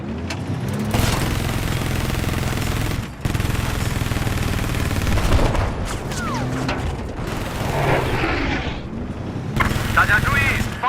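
Enemy machine gun fire in a video game, dense rattling bursts and mechanical clatter with occasional booms, running continuously under a radio-style voice talking.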